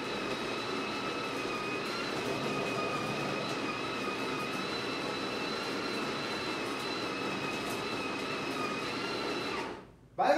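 A Delonghi La Specialista Maestro espresso machine grinding coffee for a double shot, a steady loud whirring hum with a high whine that runs unbroken for about ten seconds, then stops.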